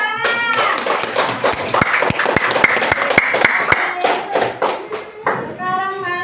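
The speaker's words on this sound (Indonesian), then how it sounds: "Iya, tepuk tangan." Children in an Indonesian second-grade classroom clap together in quick, even, rhythmic bursts, loud and close, with a few young voices and a teacher over the clapping.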